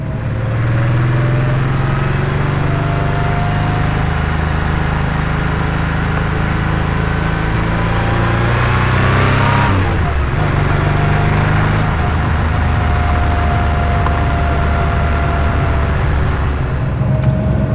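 An air-cooled Porsche car engine revs hard past 4,000 RPM and holds a high steady drone, easing briefly midway before climbing again, loud and close throughout.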